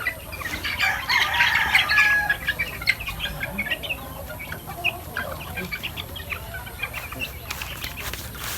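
Chickens clucking and chattering loudly nearby while young chicks are given feed, with busy overlapping calls and some wing flutter, strongest in the first few seconds and then continuing more thinly.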